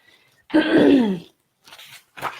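A single harsh, throaty cough up close, followed by a couple of short softer breaths or throat sounds.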